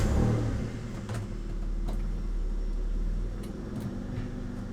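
A Mitsubishi 3000GT fitted with rally coilovers, with a loose axle and odd camber, drives slowly on a test run. It gives a steady, fairly quiet low drone broken by a few faint clunks and knocks, with no talking.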